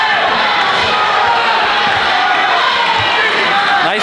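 Loud, dense crowd noise at a high school basketball game, a constant roar of cheering and chatter with a few faint thumps underneath, filling the whole moment.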